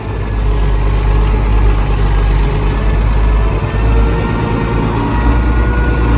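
A turbocharged Case 986 tractor engine, running loud, close and steady with a deep low rumble for the whole stretch, with no talk over it.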